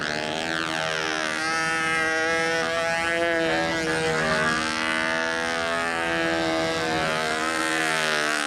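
The model engine of a radio-controlled U Master 801 bent-wing Stuka drones loudly and continuously in windy conditions, its pitch sliding up and down as the plane circles and passes.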